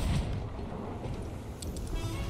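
Cannon fire from a pirate ship in the Sea of Thieves arena, heard as a steady low rumbling barrage of muffled booms, fairly faint and without speech.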